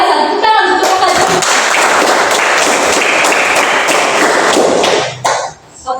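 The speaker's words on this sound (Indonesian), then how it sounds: "Kita langsung tepuk." Sixth-grade elementary school class clapping together in a loud, dense burst of rhythmic applause that runs several seconds and then stops abruptly.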